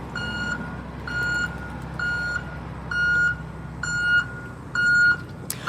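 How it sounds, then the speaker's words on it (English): A truck backing up sounds a regular reversing beeper, six evenly spaced electronic beeps over steady low road and engine rumble, fairly close and clear. "Sorry about the beeping."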